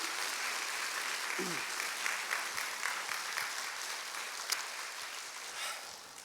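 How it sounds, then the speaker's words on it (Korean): Sustained applause from a church congregation greeting a missionary: a dense, even sheet of clapping from many people, with a few brief voices and an occasional louder clap within it. "환한 미소로 격하게 박수로 환영하며 모시도록 하겠습니다"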